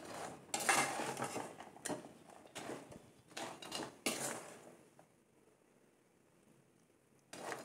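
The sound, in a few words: stirring sugar syrup in a pan on medium flame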